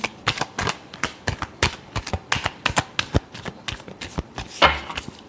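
Close, crisp shuffling of a tarot deck, a quick train of sharp papery snaps and riffles in an uneven rhythm, with one heavier thump near the end and no talking.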